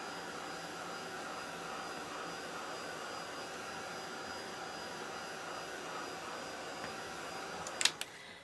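Heat tool blowing a steady whooshing roar to dry embossing, running continuously at close range with a brief sharp click near the end.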